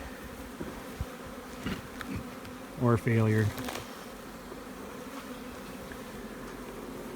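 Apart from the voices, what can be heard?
bees buzzing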